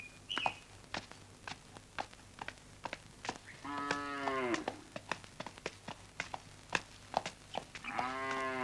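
Cattle being herded in the Vietnamese countryside moo twice, long drawn-out calls amid steady ticking and clattering farm noises, the animals fairly close and no one speaking.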